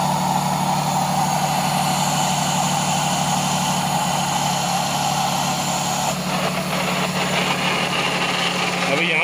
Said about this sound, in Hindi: पानी डाल के इंजन स्टार्ट कर दिया